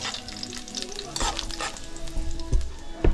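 Onion and mixed vegetables sizzle loudly in a hot pan for chicken kabsa, with crackling bursts and scraping stirs of a utensil; no one speaks.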